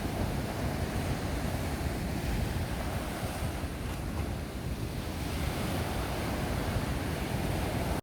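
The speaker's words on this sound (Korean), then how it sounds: "파도가 약한 곳으로 들어간다." Ocean surf breaks continuously around a shortboard surfer paddling into a calmer patch beside a strong current, a dense, steady roar of waves with wind noise on the microphone and no voices.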